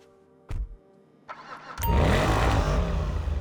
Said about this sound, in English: Next to its modern new version, the V12, arguably one of the nastiest sounding engines in the game.